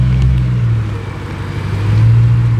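BMW E90 M3 driving past, a loud low engine rumble that swells, dips, and then rises again as the car goes by.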